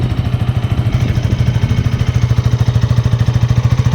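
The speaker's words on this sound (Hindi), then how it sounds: "ये कुछ आइडल साउंड है गाइस" Loud, close idle of a 2025 KTM Duke 160 motorcycle, its single-cylinder exhaust beating in a fast, steady, even rhythm with no voices.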